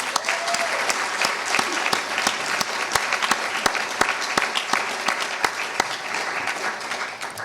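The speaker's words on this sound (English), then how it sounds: "So please give them a round of applause." Audience applause for three colleagues at an evening event, sustained clapping from a room of people throughout, steady and fairly loud with sharp individual claps standing out.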